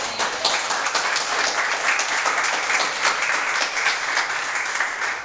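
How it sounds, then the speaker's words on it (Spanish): A church congregation applauds steadily throughout, a dense and even wash of many hands clapping together at a constant loud level, with no break or rise. "Alguien que aplauda a Dios."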